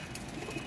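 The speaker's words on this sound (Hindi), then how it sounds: "नहीं जी दोस्तों ये 22 कबूतर है," Pigeons from a flock of twenty-two flying birds give a brief, soft cooing murmur, faint and low against quiet background hiss.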